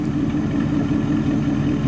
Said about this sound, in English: you get a little engine sound there